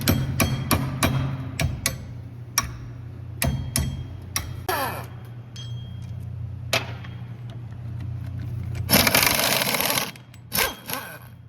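Sharp metallic hammer blows ring out in quick bursts against rusty rear wheel bearing parts of a 2016 Hyundai Elantra, then pause over a steady low engine hum, followed by a loud hissing blast of air.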